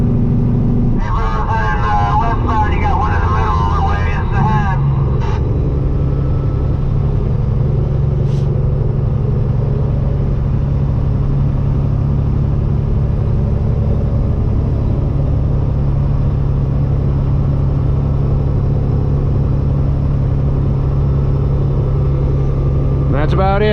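A custom Peterbilt truck with straight pipes and an 18-speed transmission drones with a steady, deep engine rumble throughout, close and loud, with a voice briefly audible near the start.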